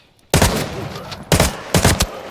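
AKM rifle firing in full auto in Arena Breakout Infinite: three loud, close bursts of rapid shots separated by short pauses, with no talking.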